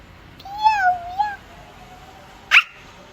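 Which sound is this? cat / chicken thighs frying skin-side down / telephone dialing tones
cat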